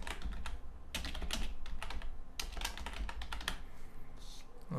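Keys on a computer keyboard clatter in a rapid, steady stream of typing, close and clear over a constant background hiss.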